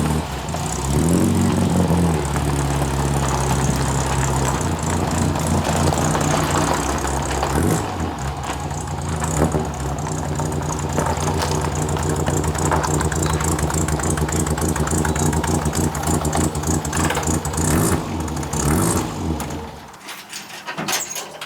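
A small pickup truck engine runs close by, a loud steady idle with a low hum and a few rises in revs, then cuts off abruptly near the end.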